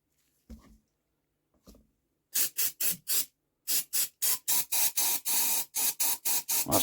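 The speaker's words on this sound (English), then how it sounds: "let me spray the rest of this thing off" Short bursts of hissing spray washing diesel off a scratch-built hit and miss engine, starting with a couple of brief puffs and then a rapid run of about a dozen loud, evenly spaced spurts up close.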